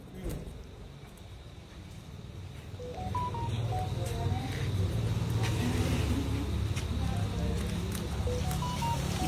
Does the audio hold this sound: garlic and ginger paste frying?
no